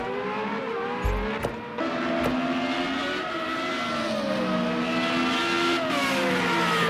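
Race car engines rev and whine through gear changes during a Night Racing League FR35 sim race at Algarve, with several cars droning together at steady volume and a couple of sharp thumps near the start.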